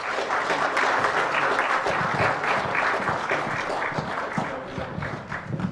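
Dense, steady applause from a large audience at an international education event for girls, loud and sustained throughout with many overlapping claps and no speech.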